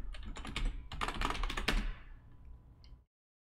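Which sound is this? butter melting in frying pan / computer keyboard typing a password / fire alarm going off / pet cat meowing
computer keyboard typing a password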